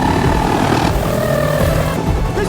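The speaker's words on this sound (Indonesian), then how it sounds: "Helikopter sudah di atas." A helicopter overhead in a tense film chase, a steady loud rotor and engine drone with a sustained whine, continuous for the whole stretch with no voices.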